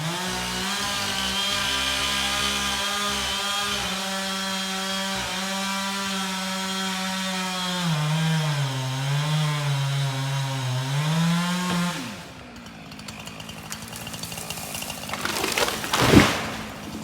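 Chainsaw bucking a fallen, barkless tree into firewood lengths, a loud steady whine that dips in pitch as the chain bites into the log, then cuts off, followed by quieter rustling and a brief sharp clack near the end.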